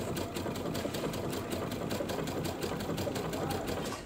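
A Brother Baby Lock sewing machine runs steadily with an edge joining foot, its needle stitching in a fast, even rhythm throughout, loud and close with no pauses.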